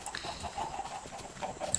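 Chickens clucking in the video game Minecraft, a few soft, scattered clucks and squawks at a moderate distance, with a sharper cluck near the end.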